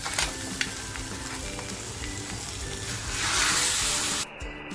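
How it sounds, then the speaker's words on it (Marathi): Crab stock poured into sizzling masala in a pan for a spicy Maharashtrian crab curry, a steady close frying hiss with faint stirring scrapes that swells into a louder rush as the liquid goes in, then cuts off abruptly near the end. "आता जो चिंबोरीचा स्टॉक काढला आहे ना तो टाकतो याच्यामध्ये"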